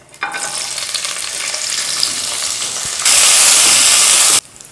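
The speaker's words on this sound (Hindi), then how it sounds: "पहले ड्राई फ्रूट्स को हम फ्राई कर लेते हैं, जिसमें मैंने काजू, बादाम, पिस्ता, किशमिश और खोपरा लिया है" Cashews, almonds, pistachios, raisins and coconut frying in desi ghee for makhandi halwa, a loud continuous sizzle that swells sharply louder for its last stretch before cutting off, no voices.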